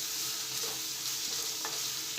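Green chillies and grated ginger sauté quietly in a pan for a pizza topping, a faint, even sizzle with light stirring scrapes and no talking.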